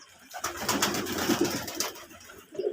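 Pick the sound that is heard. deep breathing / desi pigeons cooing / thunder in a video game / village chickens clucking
desi pigeons cooing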